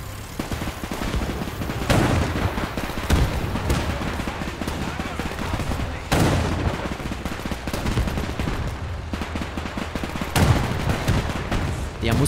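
Continuous gunfire in the Men of War II battle game, with repeated sharp shots and bursts crackling throughout over a dense battlefield roar. Distant booms land every few seconds, and someone speaks excitedly over the din.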